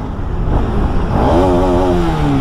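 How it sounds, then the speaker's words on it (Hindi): A Yamaha R15M motorcycle engine idles with a rough, loud rumble, then revs up and falls back, its pitch rising and wavering close to the listener. "इंजन बहुत ही सेक्सी रेव हो रहा है"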